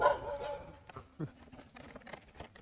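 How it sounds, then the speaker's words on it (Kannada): Several dogs bark and yip at night near a warehouse, short muffled barks at a middle distance over low background noise, with some faint voices. "ನಿಮ್ದೆ ಎಲ್ಲ ನಾಯಿಗಳು? ಏನು ಇಷ್ಟೊಂದು ಸಾಕೊಂಡ್ಬಿಟ್ಟಿದ್ಯಾ?"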